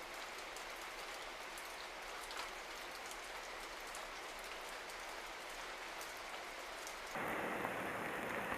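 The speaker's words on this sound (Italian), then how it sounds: "Le piogge primaverili sciolgono l'ultima neve." Spring rain falling in the Apuan Alps mountains, a dense, even hiss of drops hitting the ground that stays constant throughout and swells slightly louder near the end.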